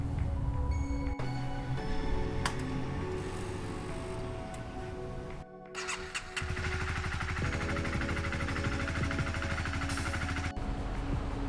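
Honda CBR250 motorcycle engine idling on a rear stand, a steady close mechanical hum with ticking valve noise that briefly dips and then continues evenly.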